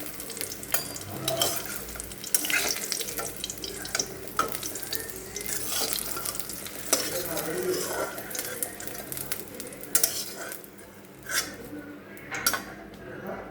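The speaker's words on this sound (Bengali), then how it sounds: "বাদ বাকিগুলো আমি এইভাবে সব ভেজে নেব।" Small ash gourd pieces frying in a pan give a continuous close sizzle and hiss, with occasional scraping and stirring sounds and brief louder crackles.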